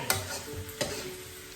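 Thin noodles stir-fried with egg in a hot pan, a soft sizzle with two quick scraping stirs, close and fairly quiet, no voices.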